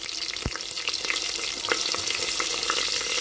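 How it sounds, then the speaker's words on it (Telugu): Green chillies and onion frying in oil with bay leaves, giving a steady, close sizzle with soft stirring clicks throughout. "దీంట్లోకి మనం పచ్చిమిరపకాయలను ఉల్లిపాయ వేసేసి"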